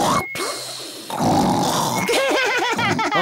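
A cartoon pig in Peppa Pig snores loudly, voiced by an actor imitating the sound, with deep rumbling snorts followed by wavering, whistling exhales, close and prominent.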